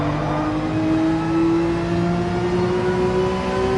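Race car engine in Gran Turismo 7 online racing, a continuous loud droning whine holding nearly level with a slowly rising pitch, sustained without breaks.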